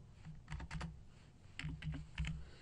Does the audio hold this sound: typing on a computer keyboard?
yes